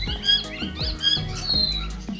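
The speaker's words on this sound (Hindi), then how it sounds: "अब आइए मिलते हैं भारतीय उपमहाद्वीप के इस प्यारे प्लम हेडेड पैराकीट से, जो तोते की एक नस्ल कही जा सकती है।" Plum-headed parakeet at Dehradun Zoo gives several sharp, harsh squawks at close range, separated by brief pauses, with no one talking.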